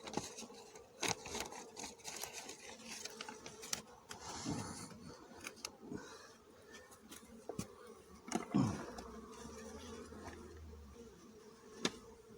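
Honeybees buzz close by at a hive during a spring mite treatment with homemade strips, with faint irregular droning mixed with sharp clicks and knocks of handling.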